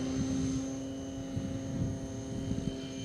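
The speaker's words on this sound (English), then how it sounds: "Arish, go catch the airplane" A mini RC plane flying outdoors, giving a steady tonal propeller whine with a constant hum throughout, moderately loud and unbroken, with some low rumble underneath.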